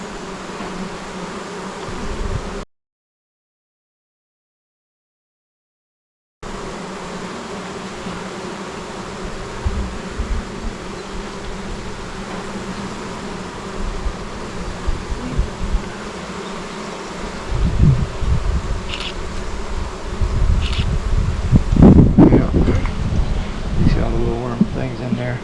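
Honey bees buzz steadily from an opened hive during a first inspection, a dense insect drone running throughout with wind rumble, brief handling knocks and a gap of silence early on.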